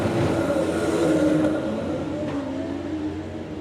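Drag racing cars at the Summer Nationals roar down the strip in a steady, loud, broad engine drone that eases slightly as the run goes on, heard from a distance with no voices.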